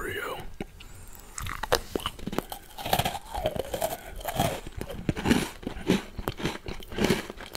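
Close-up crunching and chewing of Oreo shaved ice bingsu, with soft biting and crumbly crackles in an irregular rhythm and faint mouth sounds, recorded intimately at low volume.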